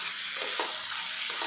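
Sugar stirred into a sizzling tomato mixture in a pan for tomato rice gives a brief, close, bright frying hiss with a few soft scraping strokes and no talking.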